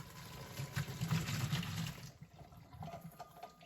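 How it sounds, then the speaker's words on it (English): Pasta cooking water poured from a pot into a strainer set in a kitchen sink, a loud gushing splash that fades to a lighter trickle and drips, with no talk. "I'm going to use two hands to slowly pick up the pot and slowly pour out the water"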